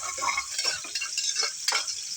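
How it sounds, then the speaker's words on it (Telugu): Large onion pieces and cloves fry in oil for a vegetable biryani, giving a continuous close sizzle broken by a few soft scrapes and clinks of stirring. "పెద్దల్లిపాయ పీసెస్, లవంగాలు ఆయిల్లో ఫ్రై అవుతున్నాయండి"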